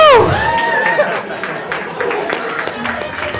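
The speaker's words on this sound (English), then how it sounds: "Ooh, you're applauding each other." Workshop audience members applauding each other: a dense patter of clapping mixed with crowd chatter and excited voices, opening with a loud whoop, steady and fairly loud throughout.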